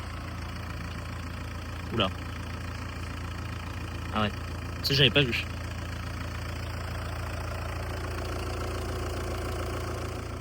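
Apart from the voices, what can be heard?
Renault Clio 2 engine idling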